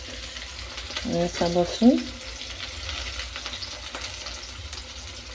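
Onions fry in a pan with a continuous close sizzle, while a voice briefly speaks and a few clinks or stirring touches rise over the hiss.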